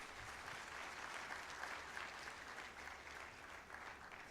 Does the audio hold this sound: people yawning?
no